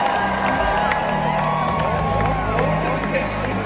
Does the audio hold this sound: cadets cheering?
yes